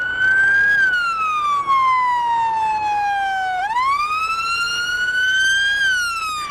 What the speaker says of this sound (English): the constant wail of sirens fills the wide avenues and narrow streets.